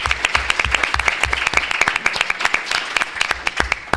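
Audience of high school students and teachers applauding at a panel event on hate speech on digital platforms, sharp close claps in uneven bursts, fairly loud and without speech.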